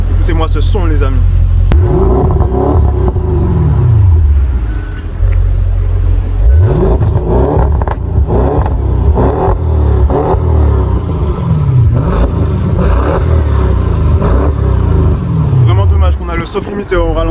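A 605 hp Audi RS6 engine, running with its cover off, revs hard outdoors in repeated rising and falling bursts, loud and close, with a deep throaty roar and some mechanical clatter between pulls.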